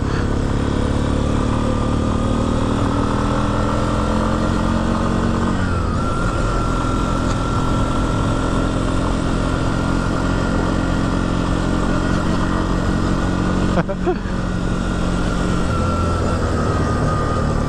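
A Yamaha four-wheeler ATV, a Big Bear 400 or Bruin 350, runs steadily on a muddy test ride, its engine a continuous loud drone with a brief dip in the middle and no voices.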